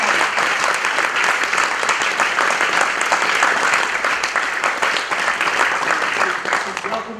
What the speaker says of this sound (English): So I would just like another round of applause for Annie,